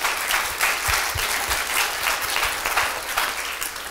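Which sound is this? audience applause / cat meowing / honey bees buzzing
audience applause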